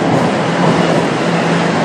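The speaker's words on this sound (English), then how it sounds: "My train is here." A train pulling into a station makes a steady, loud broadband rumble with no clear breaks, close by and heard alone without any speech.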